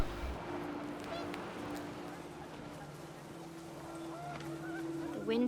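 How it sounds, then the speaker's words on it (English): Panicked geese honking in the video game What Remains of Edith Finch, a steady nasal honking tone running under wind-like noise, with brief squawks near the end; no speech. "The wind picked up and panicked geese appeared and quickly went."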